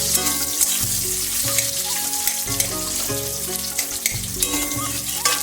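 Chili and onion sizzle in hot oil as a tempering for sour dal, a steady frying hiss broken by scattered clinks and stirring sounds, with no voices.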